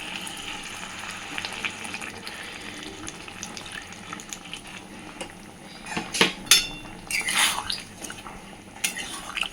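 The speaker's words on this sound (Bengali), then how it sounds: "এইবার দিয়ে দিচ্ছি পরিমাণ মতো জল" Water is poured into a pan of sizzling aloo dum potato curry, with a continuous frying hiss followed by louder bursts of splashing and crackling sizzle, plus clinks of utensils against the pan.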